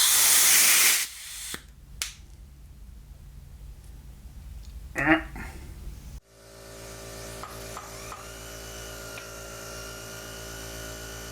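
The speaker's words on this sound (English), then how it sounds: "Tough to hear what with the compressor noise" Air compressor noise during testing of a homemade turbine vibrator for vibratory cleaning: a loud hissing blast opens, then a steadier, droning mechanical hum with a few clicks and scrapes, ending in a continuous tonal whir.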